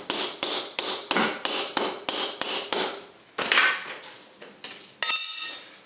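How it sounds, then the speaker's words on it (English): Hammer blows knocking a BMW E46 axle shaft into the hub splines during a CV axle replacement, about a dozen sharp metallic strikes in steady rhythm, then a few heavier, irregular hits, close and loud. "you can just knock it in the rest of the way"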